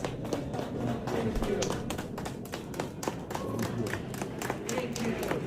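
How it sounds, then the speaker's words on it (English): A group of people claps in a loose, scattered rhythm, a spread of soft taps and slaps at moderate distance, with talking mixed in throughout. "some people clapping, thank you, thank you, thank you"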